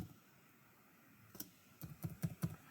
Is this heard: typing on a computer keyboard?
yes